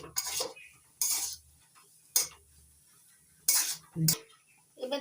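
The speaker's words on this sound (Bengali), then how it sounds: "এক চামচ ম্যাগি মশলা এবার আলুর সঙ্গে মিশিয়ে ভালো করে নাড়াচাড়া করে ভেজে নিচ্ছি" A spoon scrapes and clanks against a pan in separate bursts while potato filling with Maggi masala and chaat masala is stirred and fried, quiet gaps in between.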